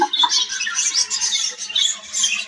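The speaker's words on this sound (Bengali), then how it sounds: "এই তো মাসাল্লাহ মাসাল্লাহ ডিম দিয়েছে আমার কোকাটেল পাখি" Cockatiel giving a run of harsh, close squawks, repeated rapidly in short bursts with brief gaps between calls.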